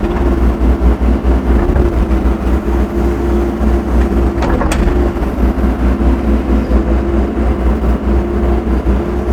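A heavy diesel engine of a used Develon DX140 LCR excavator runs steadily at close range, a constant low rumble with a brief metallic clink partway through.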